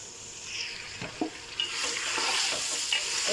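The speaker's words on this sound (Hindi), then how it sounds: "गोश्त अच्छी तरह से फ्राई करेंगे।" Mutton frying in a pan with chilli, turmeric, dried coriander, ground cumin and garam masala, a steady hiss of sizzling under a few short scraping stirs, close and without talk.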